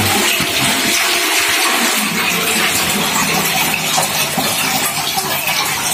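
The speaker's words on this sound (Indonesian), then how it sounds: "kita akan membuang airnya" Dirty water from washing sap-covered banana leaves is poured out, making a steady, loud rushing splash that runs unbroken for the whole stretch, with no talking.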